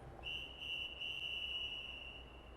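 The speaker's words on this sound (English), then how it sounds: "In the quiet woods, the drawn-out whistle blast was deafening." A single drawn-out whistle blast in the quiet woods rings as one steady, piercing high tone for over two seconds over faint background hiss.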